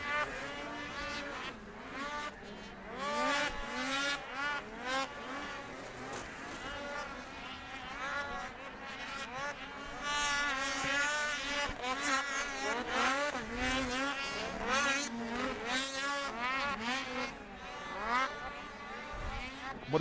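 Snowmobile engines whine and rev as machines race past in a Russian Cup snowmobile cross-country race at Veliky Ustyug, rising and falling in pitch at a distance, while a commentator talks over the action.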